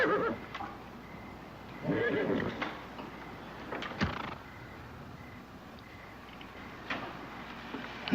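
A horse whinnies and nickers outdoors by a river, a few breathy calls and snorts at moderate distance over steady background noise, with hooves shifting.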